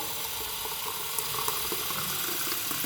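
Clean water runs steadily into a bamboo plant's container, a continuous close splashing and trickling with no talk.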